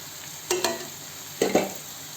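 Garam masala, chilli powder and coriander powder frying in oil for a chicken gravy, a steady soft sizzle broken by two pairs of sharp spoon-and-pan stirring clacks, close by with no voices.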